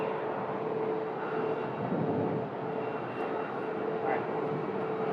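Airplanes at Phoenix Sky Harbor Airport, a steady distant engine roar and rumble that holds throughout with no break.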